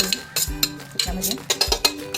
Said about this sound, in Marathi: हे सर्व आता सगळं मिश्रण चमच्याने असं हलवून घ्यायचं।